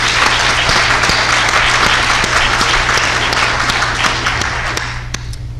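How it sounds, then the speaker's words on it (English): An audience applauds a choir at a 1998 naval retirement ceremony with loud, dense, sustained clapping that fills the room, then tapers slightly at the end. "How about a round of applause for the choir?"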